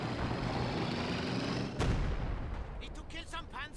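Artillery shells from a barrage in Company of Heroes 2 rumble and crash loudly in a dense, continuous roar, one sharp impact cutting through before the noise thins into scattered blasts.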